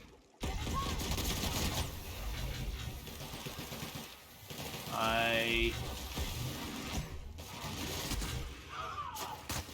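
Gunfire in The Outer Worlds video game: dense, loud bursts of shooting run almost continuously, close and harsh, with brief pauses and a short rising electronic tone in the middle.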